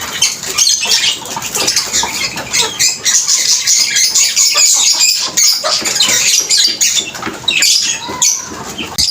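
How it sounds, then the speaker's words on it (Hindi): Several pigeons peck scattered grain close by, a steady busy patter of quick light taps mixed with fluttering and occasional soft squawks throughout. "ये कबूतर दाना चुग रहे हैं"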